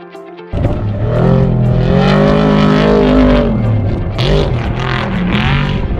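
Race vehicles at the 2022 Finke Desert Race prologue roar loudly and continuously, engines revving and shifting pitch as they pass close by in the desert, with a brief quieter start before the full blast.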